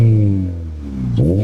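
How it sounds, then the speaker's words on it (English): An 8th-gen Honda Civic Si with a PLM header, cat delete and 3-inch Full Race exhaust idles with a deep, steady drone, then revs sharply near the end, the pitch sweeping upward, loud and close. "I'll get an exhaust clip and I'll show you guys what it can do."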